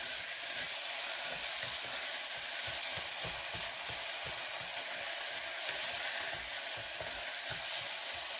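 Mashed tomatoes frying in a pan for ridge gourd kurma, a dense, continuous sizzle with soft stirring scrapes underneath, steady and close throughout.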